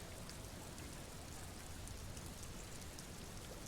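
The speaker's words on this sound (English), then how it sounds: "She looks at the rain streaming down the yellow belly of the boat." Steady rain streams down onto a boat in the video game Disco Elysium, a soft, even hiss of drops that stays faint and unbroken, with no voices.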